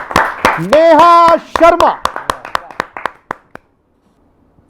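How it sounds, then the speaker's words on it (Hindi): At a Hindi kavi sammelan poetry gathering, a crowd claps loudly after a voice announces a name, the applause thinning into scattered claps and stopping near the end. "जोरदार तालियों के साथ"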